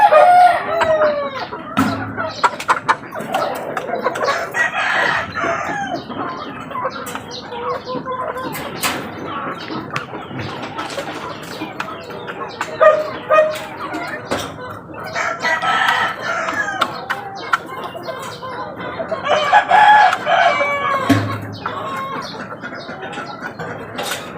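Rooster crowing and chickens clucking close by at feeding time, with repeated loud crows rising over steady clucking, occasional wing flaps and a few faint words.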